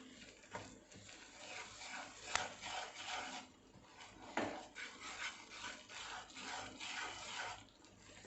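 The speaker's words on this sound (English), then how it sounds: "We have to keep on stirring it till it becomes dark brown." A spoon steadily scrapes and rubs through wheat flour frying in a pan over a low flame, a soft, continuous rasping stir with faint sizzle and no talking.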